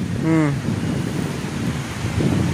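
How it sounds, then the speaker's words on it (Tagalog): Heavy rain falls in a steady broad rush outdoors, with a brief tonal voice-like sound early on, the downpour continuing loud and unbroken. "Malakas-lakas na ulan."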